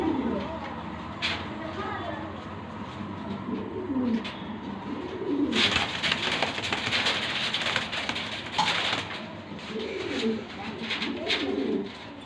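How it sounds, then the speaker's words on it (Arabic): Silver French pigeons coo in a series of soft, low, throaty calls across the clip, partly masked by bursts of broadband noise, with someone talking throughout. "ودول دكارين باذن الله ولاد الحمام السيلفر اللي احنا عرضناه زي ما انتم شايفين كده"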